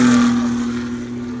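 A loud Rolls-Royce Evo 38 race car passes at the Goodwood Festival of Speed, its steady engine drone close and strong at first, then gradually fading as it moves away.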